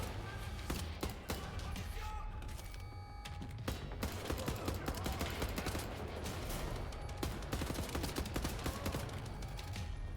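A detachable turret fires in Wolfenstein: The New Order, loud rapid bursts of gunfire hammering almost continuously with brief gaps, heavy and close.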